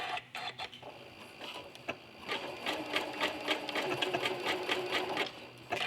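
A home sewing machine with a regular foot runs in short bursts, then settles into a steady rapid whirring as it stitches zigzag tacking stitches forward and back in cotton quilting thread, close and moderately loud.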